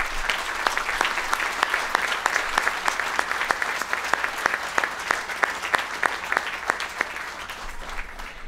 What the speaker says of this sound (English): Andy, please stand for the applause of a grateful county.